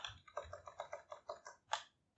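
Keys tapped on a computer keyboard's numeric keypad while navigating in Blender, about a dozen quiet, evenly spaced clicks in a steady rhythm, the last one slightly louder, then silence.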